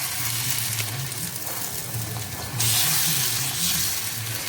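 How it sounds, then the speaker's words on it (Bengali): Patishapta batter of semolina and flour hits a hot oiled pan and is swirled into a round. A steady close sizzle hisses throughout, then swells louder partway through, with no talking. "এবার আমি এর মধ্যে ব্যাটারটাকে দিয়ে দিচ্ছি। দিয়ে এবার এটাকে একটু গোল গোল করে একটু ঘুরিয়ে দিচ্ছি।"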